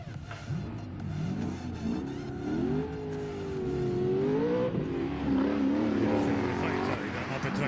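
Drift cars in a final competition battle at Osijek, engines revving and wailing with rising and falling pitch, fairly close and loud, under continuous excited commentary.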